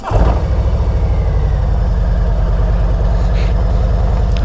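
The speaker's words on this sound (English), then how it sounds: "So you can hear these pipes, now they even sound better." Exhaust pipes on a 2023 Harley-Davidson Road Glide Special running close by, a loud, low, evenly pulsing rumble that holds steady throughout after a brief louder burst at the start.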